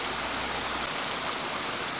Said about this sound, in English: Oh, nice waterfall.